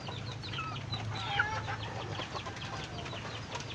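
Backyard pet chickens, young stags among them, cluck and chirp in short scattered calls at feeding time over a steady low hum, fairly close and moderately loud.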